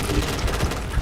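A burst of rapid video game gunfire, several sharp close shots in quick succession over about a second.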